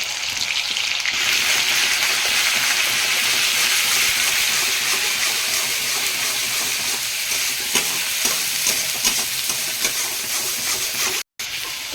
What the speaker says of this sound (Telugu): ఇదే ప్యాన్లో ఇంకొంచెం ఆయిల్ వేసుకొని అల్లం పేస్ట్ వేసుకున్నాం